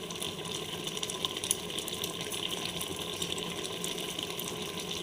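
Gota sheddho, whole vegetables and lentils, boils in a pot with a steady, dense bubbling and hissing. The sound stays close and constant throughout, with small irregular pops on top.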